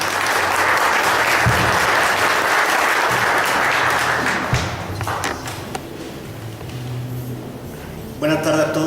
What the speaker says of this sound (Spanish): Les pido que demos un aplauso a Hugo Daniel Sánchez Espinosa.